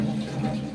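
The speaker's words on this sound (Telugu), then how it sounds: "కొంచెం నీరు పోయాలి." Water poured into a can for a can-crushing experiment, a brief steady splashing pour heard alone and close up.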